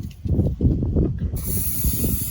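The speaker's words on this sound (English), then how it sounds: "I'm going to spray some brake and clutch cleaner on there and wipe it down" Brake and clutch cleaner sprayed from an aerosol onto a brake cylinder of a classic Jaguar XK150: low rumbling handling noise first, then a loud, steady, close hiss of spray that runs to the end.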